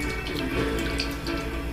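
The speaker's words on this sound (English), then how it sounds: "we're going to pour it in here" Bottled water poured into a pan that holds a nylon scrubber, making a steady, close splashing pour that runs without a break.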